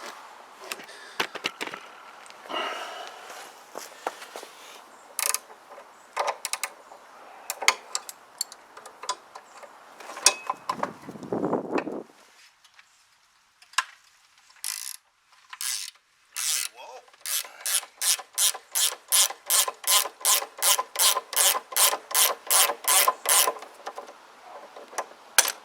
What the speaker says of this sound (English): Right, let's get this unbolted.